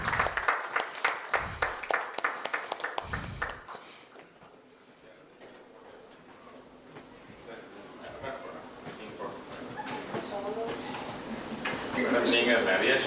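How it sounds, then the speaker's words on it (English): An indoor audience at a health event in Puducherry applauds a lifetime achievement award, starting with loud rhythmic claps, dipping into a softer scattered patter, then swelling again toward the end as people talk underneath. "Let us have a big applause for her."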